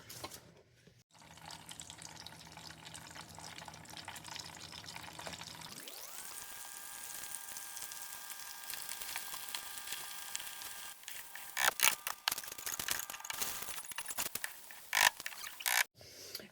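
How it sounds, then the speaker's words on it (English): Tofu for BBQ ranch tofu drops into hot oil, and a quiet, steady frying hiss swells up partway through, then carries on with scattered crackles and pops. "Now I'm going to go drop it in the oil."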